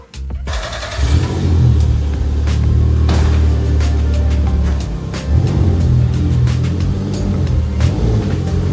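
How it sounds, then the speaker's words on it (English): A Toyota MR2 Turbo engine starts and revs loudly, then settles into a steady drive with rumbling engine noise and some wind buffeting up close. "I'm going to take it on a little test drive now"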